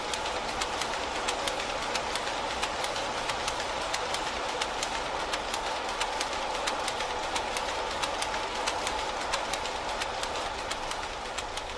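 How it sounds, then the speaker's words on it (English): Two weaving looms run in a mill weaving shed, giving a steady rapid clatter of sharp repeating clacks over a continuous mechanical drone, with no voices. "there's only 2 looms actually working at this moment in time"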